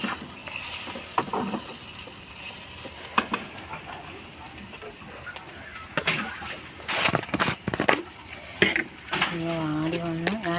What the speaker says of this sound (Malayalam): ഇളക്കി കൊടുക്കാം. സവോള ഒന്ന് വാടി വരട്ടെ.